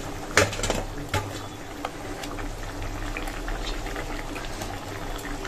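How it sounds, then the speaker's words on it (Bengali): A fish curry gravy with added water boils in a pot, making a soft steady bubbling with a few sharp clinks of a utensil against the pot near the start. "তো জলও দিয়ে দিয়েছি আর ঝোলটা কিন্তু ফুটে গেছে"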